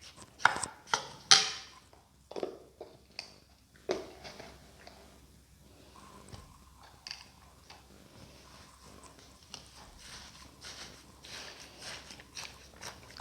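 Watermelon pieces being crushed with sugar in a bowl give a run of sharp, close knocks and squelchy pressing sounds, heavier at first, then softer and more scattered.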